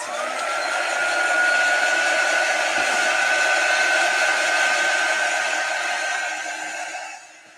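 A hair dryer blowing on freshly painted wooden cutout truck tires, a close, loud, steady whooshing hum with a whining tone that runs evenly before fading as it switches off near the end.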